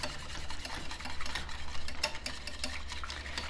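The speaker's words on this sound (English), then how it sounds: "I'm just adding a little bit of gelatin at a time to make sure I get it whisked in" Gelatin being whisked into liquid a little at a time for gelatin treats: a fast, continuous rattling whir of a whisk in a bowl, close and steady throughout, with no talking.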